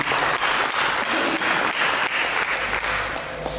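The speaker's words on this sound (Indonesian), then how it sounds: "Mari kita berikan tepuk tangan bagi Tuhan." A church congregation applauds during a sermon service, with dense, steady clapping that fills the room from start to finish and stays loud with no speech over it.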